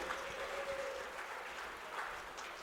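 Crowd applause at a boxing match in Melrose after six hard-fought rounds, a steady wash of clapping that fills the whole stretch without a break, with no talk over it.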